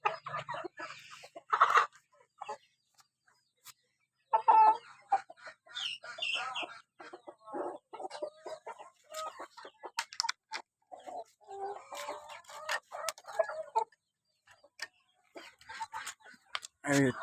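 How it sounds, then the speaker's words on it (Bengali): Brahma and tiger chickens on a small hobby farm cluck and squawk in a steady scattered series, fairly close and clear, with people talking now and then between the calls. "এখানে আছে ব্রাহ্মা এবং কিছু টাইগার মুরগি আছে।"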